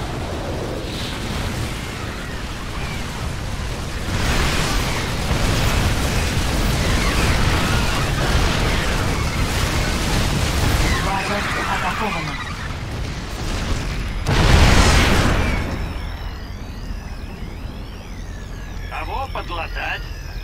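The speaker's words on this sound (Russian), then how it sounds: "используйте энергетический взрыв" Repeated heavy blasts and booming bursts from a game, with a big explosion near the end, mixed with rumbling noise and synthetic effects.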